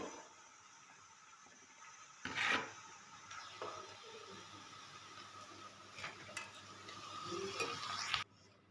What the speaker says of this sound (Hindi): सबसे पहले इसमें ऐड करूंगी मैं चने।